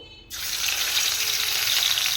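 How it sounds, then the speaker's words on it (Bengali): Fish washed and rubbed with salt and turmeric goes into a hot pan on a gas stove, setting off a sudden, loud, steady sizzle that continues without pause. "এই যে মাছগুলো ভাজা বসিয়ে দিয়েছি"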